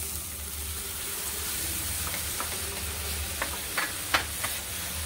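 Tomato paste and red chili powder frying in oil for Bengali tel koi, a steady close sizzle with scattered scraping clicks of a spoon stirring the pan, growing more frequent toward the end.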